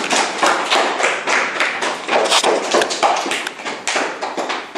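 Palms slap hard and fast against the forearms and arms during Zhong Gong qigong self-massage, a steady run of close, loud smacks with no talking.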